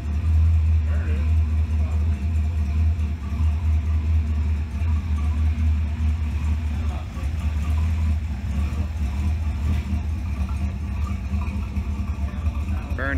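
A car engine runs rich and revs steadily in a garage, a loud continuous low rumble with slight rises throughout, while people talk over it.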